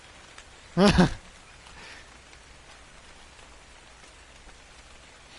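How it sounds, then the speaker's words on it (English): Rain falls steadily in Ark: Survival Evolved as a soft, faint wash of drops that holds through the clip, with a single short spoken word near the start. "the rain's going away"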